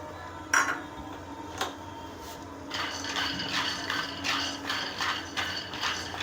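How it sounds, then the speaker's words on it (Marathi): Peanuts dry-roasting in a pan on a low gas flame for sesame laddoos, heard as a continuous close rattling and scraping of nuts being stirred against the metal, with a few sharper knocks. "शेंगदाणे भाजून घेऊया"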